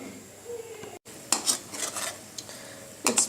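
A spoon stirs melting butter in a pot over a low flame, giving faint, soft, irregular scrapes and taps against the metal over a quiet background.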